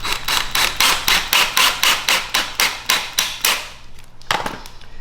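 Rapid series of about fifteen screw-driving bursts from a power drill driving screws into boat boards without pre-drilling, evenly spaced and loud, then a brief pause and a final short burst.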